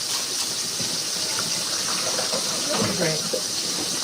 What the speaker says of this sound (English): Put enough now because we use water, not milk.